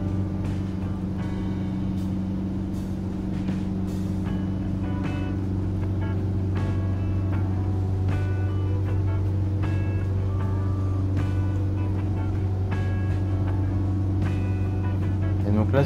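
A diesel car engine held just under 3000 rpm during a decarbonizing run: a steady, droning hum with a strong low rumble that stays even throughout, close and continuous, with faint clicks above it.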